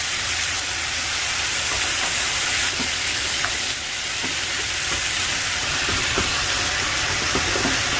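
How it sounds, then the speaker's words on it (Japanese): Sauce bubbling and reducing in a frying pan with pork belly, bamboo shoots and new onion, a steady close sizzle with scattered small pops and occasional stirring clicks, no talk. "それでちょっとね、煮詰める感じ。"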